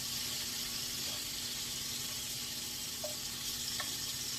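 Fried rice sizzles in seasoned oil in a pan, a soft, steady, even hiss that carries on unbroken with a few faint clinks, heard alone without speech.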